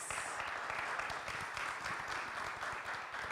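An audience at a cultural talk and discussion event applauding a musician's introduction, a steady, continuous wash of many hands clapping at moderate level.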